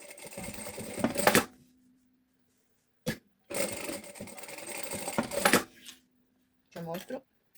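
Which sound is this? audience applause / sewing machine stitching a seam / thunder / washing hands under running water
sewing machine stitching a seam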